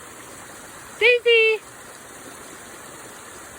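A waterfall makes a constant, even rush of water throughout, while a person briefly calls out loudly to a puppy over it.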